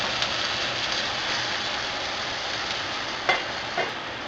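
Burgers fry on a grill while two slices of Swiss cheese melt on each, a steady, close, loud sizzle holding throughout with a couple of brief louder spits near the end and no talking.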